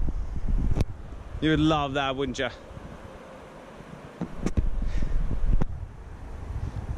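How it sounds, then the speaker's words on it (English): Wind rumbles low and steady against the microphone on a mountain hiking path near a rockfall, gusting stronger at the start and end, with a voice speaking briefly and a few sharp clicks. "It's a bit windy though."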